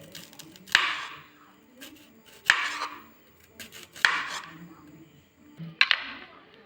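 A knife cuts star fruit in four sharp separate strokes, each one a crisp crunching slice into the fruit and against a board, with quiet pauses between them.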